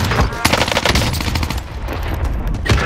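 Rapid bursts of automatic gunfire from the World War II-era shooter game Warzone Pacific, loud and dense, with sharp cracks layered over steady game noise.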